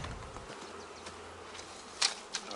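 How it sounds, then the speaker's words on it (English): Honeybees buzz faintly and steadily inside a laying worker hive as it is opened outdoors, with light wind noise and a couple of brief louder bursts near the end. "Probably going to be some bee noise once I open this up."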